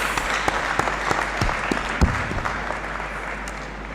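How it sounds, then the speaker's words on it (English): Audience at a university graduation congregation ceremony in a great hall applauding, a dense, steady round of clapping that stays loud throughout with scattered sharper claps. "I believe she deserves another big round of applause."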